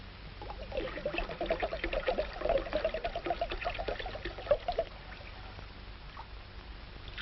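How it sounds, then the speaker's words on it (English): Grape juice pouring into a bowl, a steady gurgling trickle for several seconds that tapers off into quiet, heard faintly on an old recording. "Yeah, pour it in the bowl, William."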